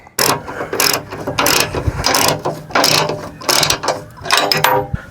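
A ratchet with a 19mm socket tightening the spotlight mounting bolts on a GQ Patrol, making loud, close clicking bursts in about seven quick back-and-forth strokes with brief gaps between them.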